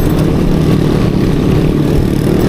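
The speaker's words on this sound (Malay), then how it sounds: "Tahu exhaust motor siapa tu?" Motorcycle exhausts rumbling and revving in a convoy, a loud, steady low-pitched drone close by with no talk.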